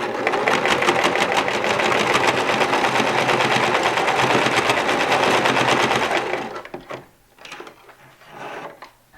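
Close, loud, continuous whirr of a sewing machine stitching a bias tape hanging loop back and forth on a pennant banner, then a few clicks and fabric handling sounds as it stops.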